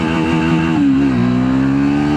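Triumph Speed 400 motorcycle with a 349cc engine accelerating hard in first gear, a loud, close, steady engine roar rising and dipping in pitch as it revs, with no talking.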